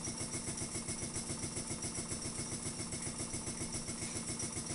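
A Ringbom Stirling engine runs fast and steady, warmed up but not yet fully hot, with a continuous mechanical hum and an even, rapid rhythmic thumping throughout. No talk is heard.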